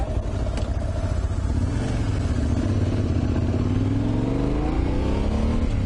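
A Yamaha Tenere 700 motorcycle is ridden through twisty roads with a steady, close engine drone that rises and falls in pitch as the rider works the throttle, backed by constant wind rush.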